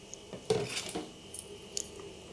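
Long beans are dropped into a pot of boiling soup in a kitchen, giving a few faint clinks and a soft clatter against the pot over a low background hum.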